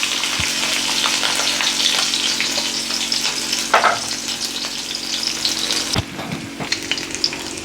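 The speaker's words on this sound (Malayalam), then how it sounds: "നമുക്കൊന്ന് ഫ്രൈ ചെയ്തെടുക്കാം." Julienned ginger and green chilies frying in ghee for street-style chole: a loud, continuous close sizzle with occasional stirring knocks and scrapes, no voices.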